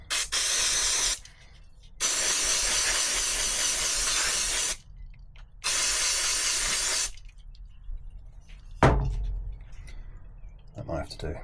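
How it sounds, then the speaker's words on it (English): Carb cleaner blasting onto a fuel pump during an LS-swapped Firebird fuel pressure repair: three long, loud, steady aerosol hisses separated by short pauses, followed by a few faint knocks and clicks. "Give some carb cleaner."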